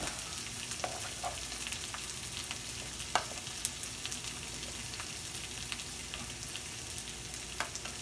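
Rice stir-fried in a pan while the grains are broken apart: a quiet, steady sizzle broken by scattered light scrapes and clicks from the utensil, with no talking.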